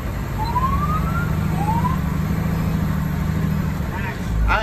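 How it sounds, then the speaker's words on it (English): A fire engine siren in yelp mode wails in quick rising sweeps, loud and steady over a rumbling engine and cab noise, with people talking at the end. "It would be cool if you honked the horn and the siren"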